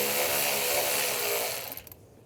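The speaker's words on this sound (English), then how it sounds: "Using a 8mm socket," An 8mm socket ratchet loosens a worm clamp in the engine bay of a 2011-2018 RAM 1500 with the 3.6L V6, giving a rapid, close whirring buzz that fades into a few separate clicks.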